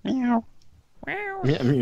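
A person imitates a black cat's meow with two drawn-out vocal mews in a high, whiny voice, separated by a short pause, close and clear.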